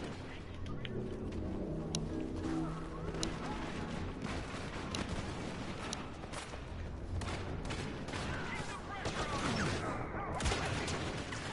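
Blaster cannon fire rings out in a Star Wars Battlefront match on Jabba's Palace, with repeated sharp shots and booms over a dense battle din and a voice speaking faintly underneath.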